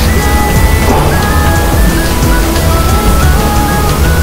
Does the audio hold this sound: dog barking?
no